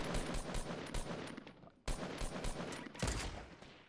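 Rapid bursts of gunfire in the battle-royale video game Fortnite crack out in a dense, close volley, pausing briefly before another loud string of shots.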